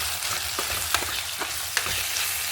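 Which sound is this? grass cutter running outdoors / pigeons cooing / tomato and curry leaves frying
tomato and curry leaves frying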